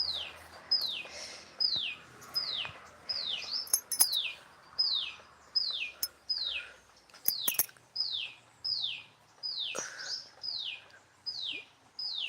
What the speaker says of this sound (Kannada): ನೋಡಿ ಹಕ್ಕಿಗಳು ಎಷ್ಟು ಚೆನ್ನಾಗಿ ಸೌಂಡ್ ಮಾಡ್ತಾ ಇದೆ